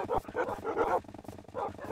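A dog from Minecraft Java Edition 1.19.2 gives a quick run of game barks, several short yaps in an uneven rhythm, sounding close and clear over soft background music.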